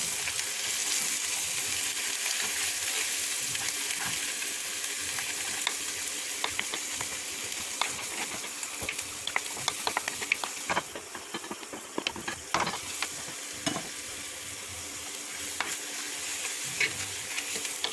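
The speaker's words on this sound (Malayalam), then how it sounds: "അരച്ച് വെച്ച മുളക് നമ്മൾ മിക്സിക്കകത്ത് അരച്ച് അത് ഇങ്ങോട്ട് നമ്മൾ ചേർത്ത് ഇളക്കുവാണ്" Ground chili paste, blended in a mixer, stirred and fried in a pan in a home kitchen: a steady close sizzle with repeated scraping stirs and clicks of a spoon against the pan, no talking.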